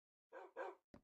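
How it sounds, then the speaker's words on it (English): A dog in a Minecraft village's dock area gives two quick barks, then a short yip, each clear and close with nothing else around them. "we have a dog in the village's docks"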